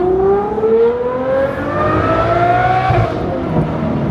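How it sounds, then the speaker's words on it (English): Supercar fitted with a Novitec exhaust revs hard nearby, its loud engine note rising steadily in pitch for about three seconds before easing off into a deep rumbling idle. "Has a Novitec exhaust too, which is basically the best system you can get for this"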